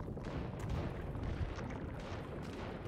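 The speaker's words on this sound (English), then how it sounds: "Oh, yeah, I do hear gunfire." Distant gunfire rumbles through a dense forest survival game, a low muffled booming wash with faint bursts, fairly quiet and with no talking.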